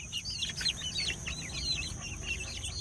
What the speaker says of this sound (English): All of the chickens are in the coop for the first time tonight, and they're not very happy.